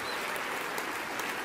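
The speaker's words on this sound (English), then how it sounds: "That deserves a huge round of applause." A banquet crowd at the 2013 NASCAR Sprint Cup Awards applauds Matt Kenseth's second-place finish, a dense, steady wash of clapping that holds at an even level for the whole moment with no voices.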